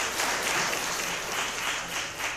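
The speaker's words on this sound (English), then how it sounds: "So, clap it up for JR and the fam right" Audience at a Cleveland tech mixer applauds steadily, a dense wash of clapping that holds at an even level for a couple of seconds with no speech over it.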